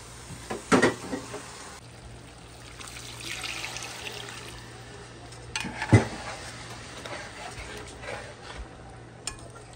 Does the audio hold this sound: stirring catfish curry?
yes